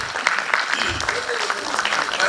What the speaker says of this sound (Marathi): एकदा या तिघांसाठी जोरदार टाळ्या वाजवायचे